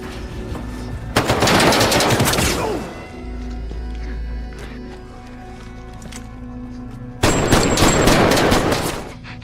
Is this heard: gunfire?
yes